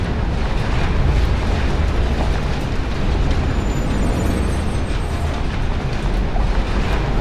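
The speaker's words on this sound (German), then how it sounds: "Eisenbahn." Train rumbling past in the video game Marlow Briggs, a loud, steady, dense roar of wheels and rolling stock that holds constant throughout with no pauses and no talk.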